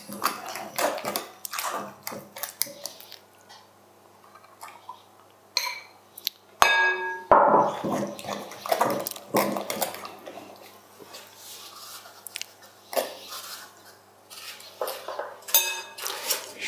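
A utensil clinks and scrapes against a bowl while roquefort tart filling is mixed, in irregular bursts with a sharper metallic rattle partway through, and a voice speaks in between.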